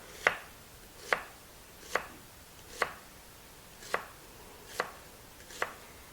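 A knife chops through a peeled red onion on a board in seven crisp, evenly spaced strikes, close and distinct, with quiet gaps between them and no voices.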